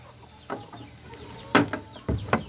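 Native chickens cluck in short, scattered bursts close by inside a coop, a few louder clucks standing out over a quiet background.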